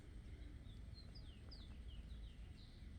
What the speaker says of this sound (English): The birds are singing in the background.